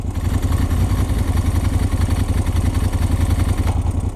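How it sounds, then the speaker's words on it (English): A Moto Guzzi Griso motorcycle runs steadily at idle, its dry clutch producing a continuous loud mechanical rattle over the pulsing low engine beat, close and unbroken throughout. "slightly marred by the dry clutch rattle that happens with certain bikes"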